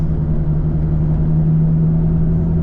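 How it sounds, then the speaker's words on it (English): A steady, loud engine and exhaust drone with a deep low hum from a BMW Z4, continuous throughout as the car pulls under load in third gear. "now I can hear the exhaust."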